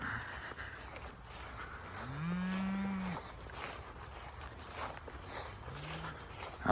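Cattle on a crop field grazing cover crop moo twice, one long low call in the middle and a shorter one near the end, over steady outdoor background noise.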